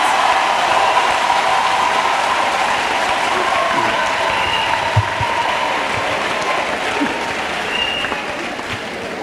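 A church congregation claps for Jesus Christ in steady, dense applause that fills the room and goes on throughout, fading slightly toward the end.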